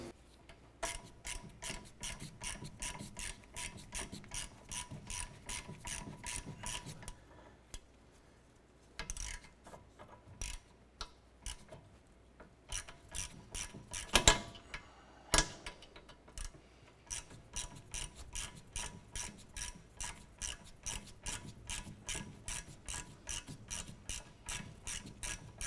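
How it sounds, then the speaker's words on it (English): A ratchet tightens a nut on a Honda Accord sway bar link, giving fast, even rhythmic clicks up close, with a brief pause and a couple of louder metallic knocks midway before the steady ratcheting resumes. "Get our nut started. Let's go ahead and tighten that down."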